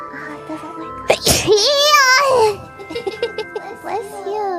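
A sneeze bursts out loudly near the start, followed by a drawn-out vocal sound and softer voices and rustling afterward.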